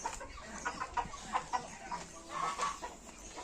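A rooster clucking in a farmyard poultry setting, a run of short, fairly close clucks and chatter repeating irregularly over faint background noise.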